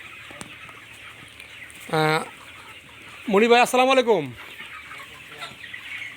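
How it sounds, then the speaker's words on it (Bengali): Sonali cock chickens on a poultry farm, a short burst of clucking followed by a louder run of squawking calls, close by, with a man's brief greeting heard at the start. "অনেক সোনালী কক মুরগি উঠাইছে"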